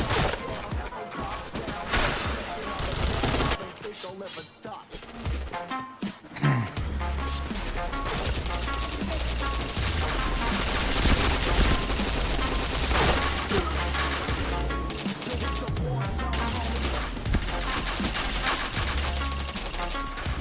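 Rapid bursts of gunfire from a shooting video game run almost continuously, dense and loud, with brief gaps early on and shouted voices mixed in.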